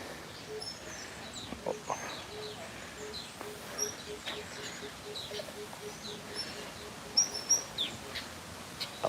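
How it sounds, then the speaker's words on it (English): Small birds chirp and tweet outdoors on a sunny day, scattered short calls rising above a quiet steady background, some nearer and a bit louder toward the end. "I love the birds out here."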